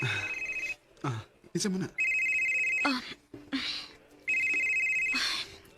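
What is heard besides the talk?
telephone ringing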